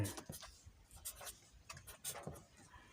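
A pen scratches numbers onto paper in short, soft, quick strokes with small gaps between them, heard very close and quiet with no talking.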